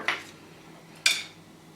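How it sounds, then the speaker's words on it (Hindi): Whole spices dropped into a blender jar for grinding into curry powder, two quick light clinks of hard bits hitting the jar, close and quiet. "सबसे पहला काम, जो साबुत मसाले उनको हमने पीसना है, तो आप एक ब्लेंडर की जार में इसको डाल दीजिएगा।"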